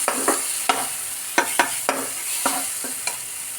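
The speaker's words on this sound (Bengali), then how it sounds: "এভাবে অনেকক্ষণ কিন্তু ভালোভাবে কষাতে হয়" Spices for a small-fish chorchori stir-fried in a pan: a continuous bright sizzle broken by a steady series of scraping spatula strokes, close and without talk.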